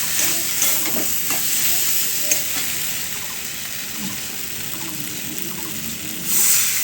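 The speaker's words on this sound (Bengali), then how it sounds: "আবার একটু নাড়তে থাকবো।" Paneer curry spices sizzle steadily in a pan while being stirred, with soft scraping strokes over a constant hissing fry and a brief watery splash near the end, no talking.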